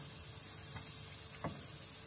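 Chopped parsley fries in hot oil with a steady soft sizzle and hiss, with a couple of faint spatters and no talking.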